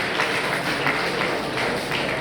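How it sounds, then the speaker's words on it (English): Dense, steady applause from an audience honouring a guest lecturer at a gathering, a continuous wash of many hands clapping without pause or rise. "A round of applause for him once again."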